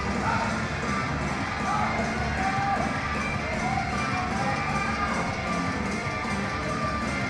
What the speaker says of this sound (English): he's got a whole crowd here rooting for him